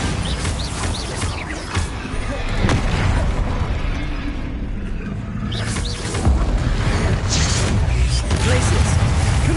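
Bombarda and Confringo spell blasts in Hogwarts Legacy erupt in repeated loud booms and bursts amid battle noise during a troll fight, with a brief lull midway before more explosions.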